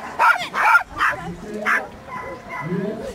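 A young female dog at a French championship event gives several quick yips and barks up close, followed by softer whimpering and whining, with people talking nearby.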